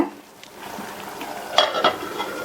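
A drumstick curry stirred in a pot after a splash of water over a low flame: soft scraping and a few clinks of a spoon against the pan, faint bubbling beneath, close and brief.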